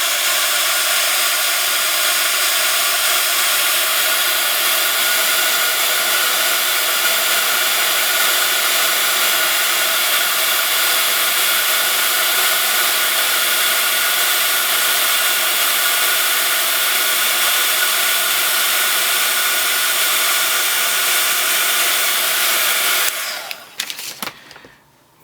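A heat tool blows a steady, loud whirring roar while melting ultra high embossing powder on a Christmas bauble card, holding constant for over twenty seconds before cutting off abruptly near the end.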